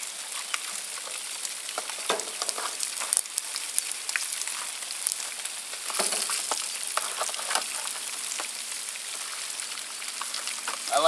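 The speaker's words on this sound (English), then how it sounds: "And I am going to stir these potatoes," Potatoes sizzle and crackle steadily in a hot pan with occasional scraping stirs, a close, continuous frying hiss with no talking.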